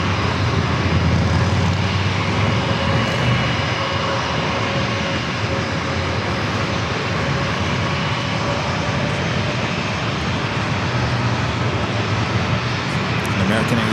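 A Boeing 737 MAX 9 airliner rolls for takeoff on runway 27 at San Diego airport with a loud, continuous engine roar that stays steady throughout, heard from nearby without pause.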